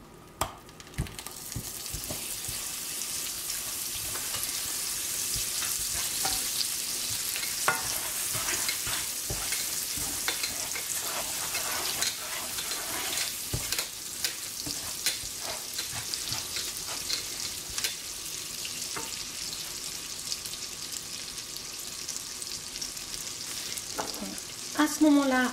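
Cold butter pieces stirred into freshly melted hot caramel sugar, just off the heat, with a steady sizzle and bubbling throughout and repeated spoon scrapes against the pan, no voices.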